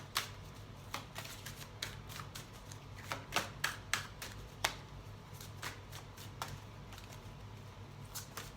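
Oracle cards are shuffled in a steady run of sharp riffling snaps and soft slides, close and fairly quiet over a low background hum, with no talking.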